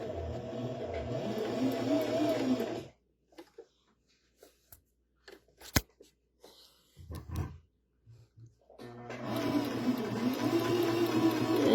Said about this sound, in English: You be careful I don't sew over the pin, but I do want to get pretty close to it, since it's holding all of our fabric in place.